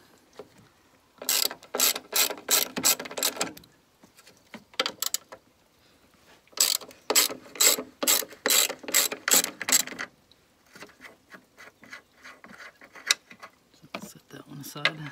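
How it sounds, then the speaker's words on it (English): A 13mm ratchet clicks in rapid bursts as bolts are loosened on Mini Cooper S R56 camber plates. It sounds close and crisp, with two long runs of fast pawl clicks and softer handling noise between them. "take a 13mm ratchet and loosen these 3 bolts"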